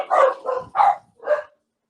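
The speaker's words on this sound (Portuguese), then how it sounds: "se vocês ouvirem latido, não reclamem" A dog barks four times in quick succession, loud and close, with short gaps between the barks and no talking.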